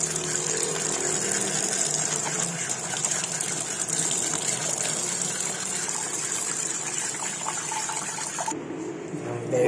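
Water runs steadily from a kitchen tap during washing, a constant close gushing hiss that cuts off abruptly near the end.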